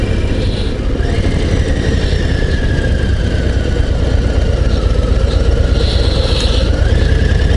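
A Harley-Davidson Low Rider ST "Fast Johnnie" rolls downhill with the clutch pulled in, its engine idling in a low, steady rumble, loud and near, over faint road and wind noise.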